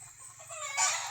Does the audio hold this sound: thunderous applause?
no